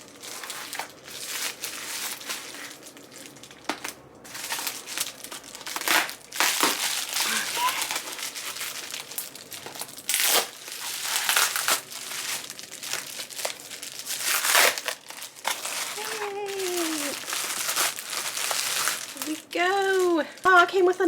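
A heavily taped book package is opened by hand: repeated crinkling and crumpling of paper and tape with occasional tearing bursts, close and intermittent, while a person talks throughout.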